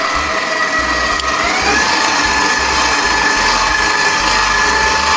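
Electric mixer creaming cheesecake batter for a birthday cake cheesecake, a loud continuous motor whir with a grinding mechanical texture, steady and close throughout with no talking.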